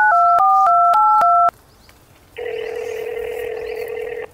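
A telephone keypad dials out with a quick series of about six electronic touch tones, then after a brief pause a steady ringback tone sounds loudly and continues.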